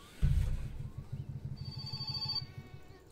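An in-game telephone rings in My Summer Car, a rapid trilling bell in repeated bursts that rises loud and close, then a brief high electronic tone joins near the end; no speech.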